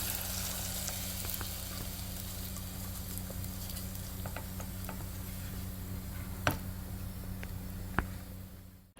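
Hot tempering poured over chopped jackfruit for a jackfruit thoran sizzles steadily, a continuous close crackle with a few sharp pops and no voices.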